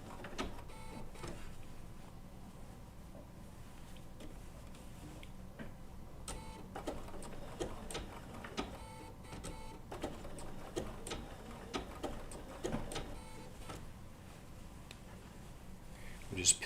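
A Bernina B790 PRO sewing machine stitching wool appliqué with an open toe foot runs in quiet, uneven bursts of rapid ticking needle strokes with short pauses, close and soft, while someone talks over it.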